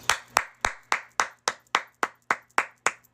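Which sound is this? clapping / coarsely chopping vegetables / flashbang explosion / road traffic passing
clapping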